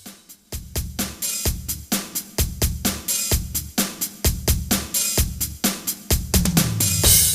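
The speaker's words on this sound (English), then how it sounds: "We've got a drum pattern which sounds like this." A Roland JD-Xi synthesizer drum pattern at 129 bpm plays alone: punchy kicks and crisp hi-hats and snares in a steady, driving groove, loud and close throughout.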